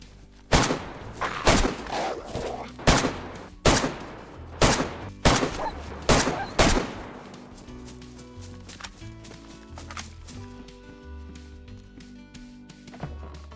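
Heavy gunfire in the survival video game DayZ: a string of loud, booming shots at roughly one-second intervals, then quieter rumbling and tonal game sounds as the shooting stops.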